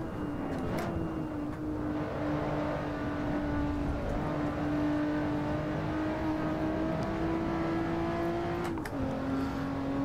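A Lotus Evora S in Assetto Corsa holds a steady, close engine drone that climbs gradually in pitch, then dips briefly at a gear change before pulling on again, with no talking.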